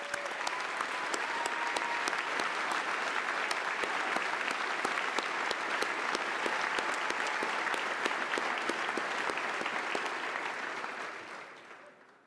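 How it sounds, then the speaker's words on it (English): A large audience applauds steadily for mentoring program participants at a Stars & Stripes event, a dense, even clatter of clapping holding for about eleven seconds before tapering off at the end. "Let's give them a round of applause."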